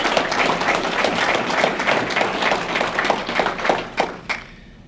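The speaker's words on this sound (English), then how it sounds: "let's have a round of applause for all of our student athletes" A crowd at a volleyball and football media day claps for student athletes, a busy rush of many hands that holds steady, then tapers into a few last scattered claps before fading out.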